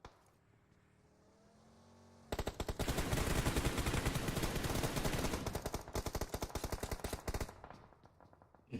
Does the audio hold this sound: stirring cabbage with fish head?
no